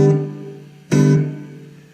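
A guitar through a reverb pedal on its 63 SP setting: a sustained chord decays, then a second strummed chord rings out with a lingering, shimmering tail, no talking.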